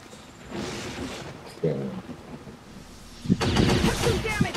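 Bursts of gunfire in the video game XCOM 2, a sharp single report followed by a denser volley of shots near the end, under a faint speaking voice.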